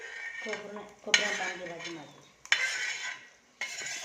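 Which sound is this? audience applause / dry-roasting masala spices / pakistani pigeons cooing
dry-roasting masala spices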